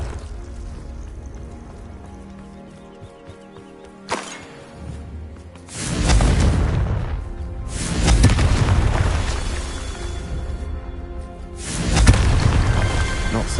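Confringo fire spells are cast in the game Hogwarts Legacy, with several deep booming blasts that swell and roll out over a rumbling background.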